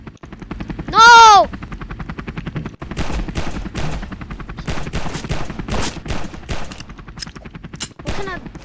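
A Roblox prison-escape game with a helicopter rotor chop running throughout under rapid bursts of gunfire and machine-gun fire, a loud rising whistle-like game sound near the start, all fairly loud and busy.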